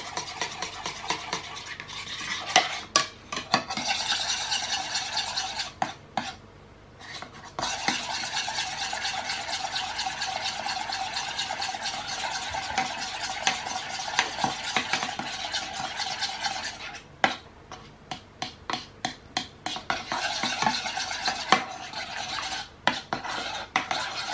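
A spoon stirs a homemade soap mixture with added scent in a bowl, giving continuous scraping and clinking strokes, fairly loud and close, with only brief pauses.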